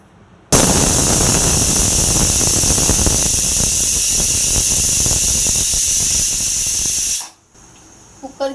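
A pressure cooker cooking green-masala peas rice lets out one loud, continuous whistle of rushing steam that starts abruptly and holds steady for about seven seconds, then cuts off, close up with no talk over it.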